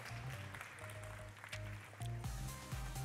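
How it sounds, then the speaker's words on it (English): A crowd at a DigitalityX 2017 gaming event applauds the second place winner, a steady wash of clapping over music tones and brief voices. "Once again, applause for your second place winner."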